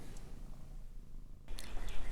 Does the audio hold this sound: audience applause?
no